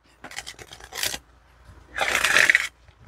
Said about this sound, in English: I don't have any problem shuffling it.